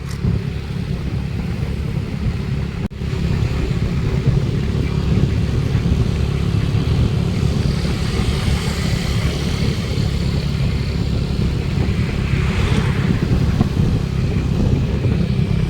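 A motorcycle engine runs steadily throughout, a constant low rumble with no pauses or talking.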